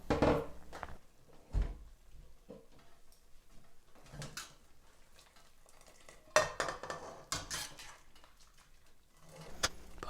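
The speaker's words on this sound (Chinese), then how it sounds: "好了，时间到了，我们就把它捞起来。" Boiled ingredients for a cochayuyo seaweed Buddha's delight are scooped out of a pot, with scattered clinks, scrapes and soft wet knocks of utensil against pot, irregular and close by.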